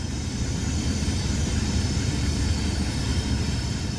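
GE diesel locomotives haul a coal train in Train Simulator 2020, a steady, loud engine drone and rumble with no break over several seconds.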